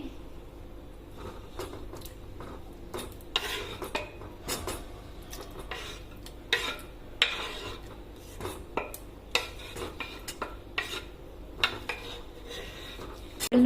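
Chopped tomato, onion and green chili being stirred into boiling dal in a pot, with repeated clinks and scrapes of a metal spoon against the vessel over a low bubbling background.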